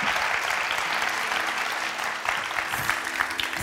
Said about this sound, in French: Je vais demander, mesdames, messieurs, d'applaudir Tom